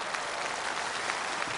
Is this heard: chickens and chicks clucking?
no